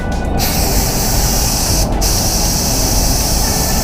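A spray gun hisses loudly and continuously, spraying Octoral waterborne paint at 2 bar, with a brief break near the start and another about halfway through.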